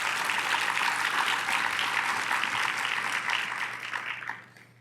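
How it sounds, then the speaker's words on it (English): Applause at an awards luncheon fills a banquet room, a full, even patter of many hands clapping at close-to-moderate distance, holding steady for several seconds before tapering off. "Let's give them a round of applause."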